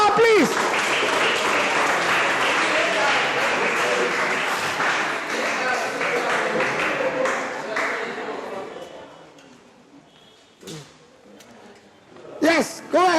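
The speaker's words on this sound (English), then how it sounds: "Can you clap for her, please?" A room of people applauds the vice president at a youth consultation meeting, sustained clapping for about eight seconds that fades out, followed by brief speech near the end.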